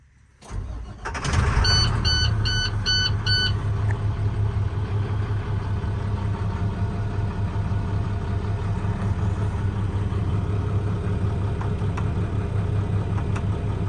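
The diesel engine of a 2013 International mechanics crane truck with 113k miles cranks, fires with a few warning beeps, then settles into a loud, steady idle close by.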